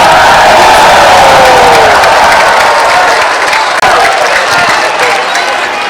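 Applause and cheering from an audience of farmers and fishermen at an Indonesian national farmers' event in Gorontalo, loud dense clapping with crowd whoops that holds steady and slowly eases off.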